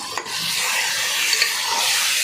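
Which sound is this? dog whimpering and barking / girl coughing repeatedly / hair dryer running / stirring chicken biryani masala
stirring chicken biryani masala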